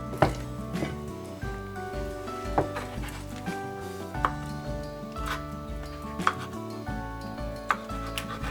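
A knife slices through homemade acorn jelly (dotorimuk) on a board, giving soft, separate taps about every half-second to second, faint beneath steady background music.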